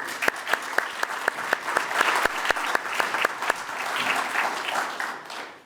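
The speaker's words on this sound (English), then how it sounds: "let's give them one more round of applause" An audience at a scholar-athlete awards presentation applauds with a steady roar of clapping, several sharp individual claps standing out near the front before the sound tapers off.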